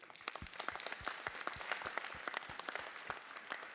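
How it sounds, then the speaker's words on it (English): Scattered applause from a small crowd at a business meeting, steady clapping at moderate distance for a few seconds. "A round of applause for Casey and his hard work."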